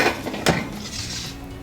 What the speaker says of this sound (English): Here goes all my fafdas into air fryer.